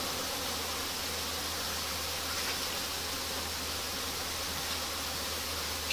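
Honeybees inside a queenless swarm hive give off a continuous dense buzz over a low steady hum, even and unbroken throughout, with no speech.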